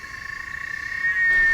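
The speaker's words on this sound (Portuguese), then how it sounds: "O que você está ouvindo é o Canto da Cigarra." A loud, close cicada buzz pulses rapidly, then swells into a steady shrill drone.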